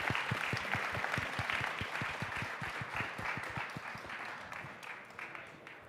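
Conference audience applauding the runner-up startup InVenture on a stage in Riga, a steady, dense clapping that holds evenly across the whole span with low thumps beneath, gradually easing slightly toward the end.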